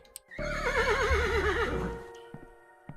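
A horse neighing in the game Yuppie Psycho, one long, loud, wavering whinny lasting over a second and trailing off, followed by faint knocks and near silence.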